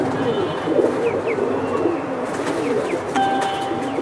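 Domestic pigeons kept for sale, including a military breed, coo in low repeated murmurs close by, with a few brief chirps and a thin tonal whistle near the end over a steady busy background.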